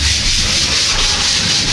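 Steady, loud abrasive rubbing of sandpaper scraped continuously across drywall, with no pauses.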